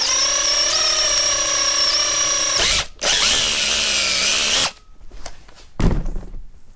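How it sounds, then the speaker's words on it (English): A small drill bit whines at high pitch while boring a hole during automotive sun visor fabrication, running in two steady bursts with a brief stop between, then spinning down amid clunks and handling noise. "I'm using a smaller drill bit so I can drill this hole out."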